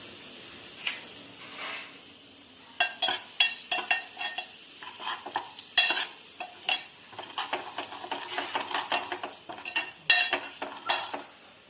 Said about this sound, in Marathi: आपलं आता लाल तिखट परतून झालेलं आहे.